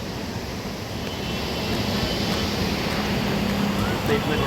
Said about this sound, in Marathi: आता आम्ही आलेलो आहोत आंबोलीच्या प्रसिद्ध धबधब्यावर